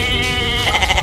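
A goat bleats in a wavering, close call, the quavering cry drawn out over about a second with no talk over it.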